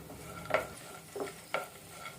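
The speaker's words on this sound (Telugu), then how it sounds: "ఇలా కలుపుకుంటూ దగ్గరుండి వేపుకోవాలి." Melon seeds and raisins fry in a pan for pumpkin halwa, a gentle sizzle broken by three distinct scraping stirs of a spoon against the pan, close up with no voices.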